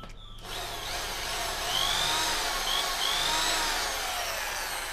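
A Bosch drill in normal drill mode runs steadily and close with a smooth high motor whine, holding continuously throughout with slight pitch wavers and no talking.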